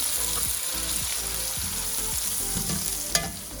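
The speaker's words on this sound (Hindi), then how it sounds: "ये देखें हमारी ये प्याज फ्राई हो गई है, अब इसको हम निकाल रहे हैं" Onions fry in oil toward a light brown, crisp finish for chicken yakhni pulao, giving a loud, dense, continuous sizzle with stirring scrapes and one sharp clink near the end.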